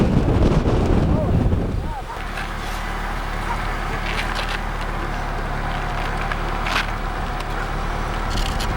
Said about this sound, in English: Camera's taking quite a bit of a beating here on that gustnado that we got hit by.